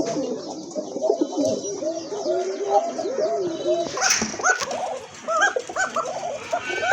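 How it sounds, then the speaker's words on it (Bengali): An Arabian koka pigeon coos over and over in close, rhythmic, overlapping phrases, loud and near, sustained throughout with no pauses. "এটা হচ্ছে আপনার অ্যারাবিয়ান কোকা কবুতর, খুব ভালো ডাকে"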